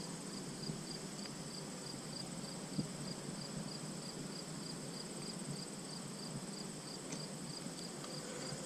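Honey bees buzz steadily around an open hive fitted with a hive top feeder, a dense continuous hum close by with no talking.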